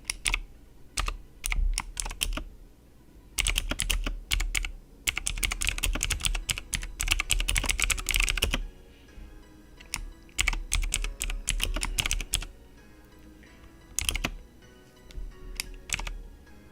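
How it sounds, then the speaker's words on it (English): Rapid bursts of typing on a computer keyboard, close and steady, in clustered runs of keystrokes separated by short pauses, with no voices. "let me finish typing away"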